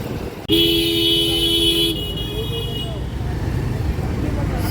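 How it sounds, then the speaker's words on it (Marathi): A car horn honks once from close behind on a busy Dadar street, a loud sustained toot of about a second and a half, followed by traffic noise and nearby voices. "थांबा थांबा गाडी आहे पाठी"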